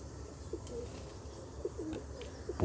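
Pigeons coo softly in a few low, rounded calls against steady outdoor background noise, moderately distant, with a louder knock or bump near the end.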